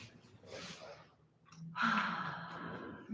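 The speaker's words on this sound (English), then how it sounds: "Taking some nice deep breaths." Slow deep breaths during a guided meditation breathing exercise: a long exhale, a pause, then a fuller breath, close and soft, with no talking.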